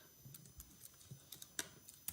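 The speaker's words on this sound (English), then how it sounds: "typing her name in" Soft, quick clicks of keys being typed on a computer keyboard, an irregular patter of taps, faint and close, with no talking.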